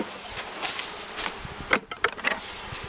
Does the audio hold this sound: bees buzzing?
yes